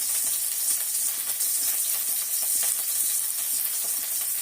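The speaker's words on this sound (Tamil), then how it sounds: "ஒரு கொத்து நம்ம எண்ணெயில் போடுவோம்." A sprig of curry leaves sizzles in hot oil while a pavakai kuzhambu is cooked, giving a steady, bright crackling hiss with small pops and no talking.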